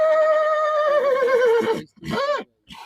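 A 22-23-year-old Marwari stallion neighs loudly and close by, one long whinny that falls in pitch, then two shorter snorting calls after a brief gap.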